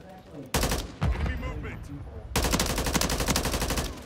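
Shotgun blasts in Call of Duty, a burst of heavy shots followed by a long rapid string of close, loud gunfire, with faint game noise between.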